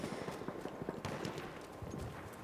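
Horse hooves clip-clopping in Battlefield 1, a quick broken rhythm of thuds amid the dense rumble and crackle of battle, mid-distance and fairly loud throughout.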